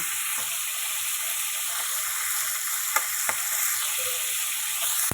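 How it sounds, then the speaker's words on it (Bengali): Fish being fried in a pan for a Bengali water lily curry, giving a loud, steady, hissing sizzle that runs unbroken throughout, with a couple of faint clicks of a utensil and nobody speaking. "মাছটা উল্টা লাল লাল ভেজে নেব একটু"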